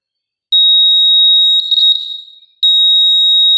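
A small buzzer in a test circuit connected to a digital multimeter sounds a loud, steady high-pitched electronic tone. Two bursts are separated by a short warbling dip and a brief gap, with no other sound.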